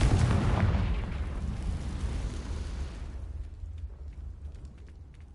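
Confringo fire spell exploding in the Hogwarts Legacy video game, a loud broad burst that rumbles and decays over several seconds, then fades into quieter crackling debris.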